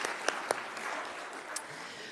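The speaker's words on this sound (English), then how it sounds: "Let's give them a round of applause." A church congregation at a Sunday worship service applauds softly, a faint, steady patter of clapping heard from a distance.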